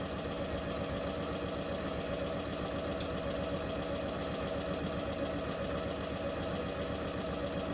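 Placemat pieces being stitched together on a sewing machine, a steady, continuous mechanical hum that holds an even level throughout with no pauses and no talking.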